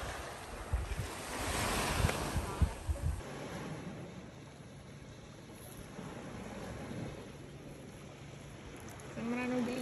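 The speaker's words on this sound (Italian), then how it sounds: "il mare sembra molto bello" Sea surf washing onto a black sand beach on Elba, a broad continuous rush of waves mixed with heavy wind buffeting the microphone, louder at the start and easing later.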